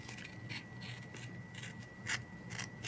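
Scissors snip through stickers for a reading journal, a series of short, crisp cutting strokes repeating at an irregular pace over faint rustling, close and quiet, with no voices.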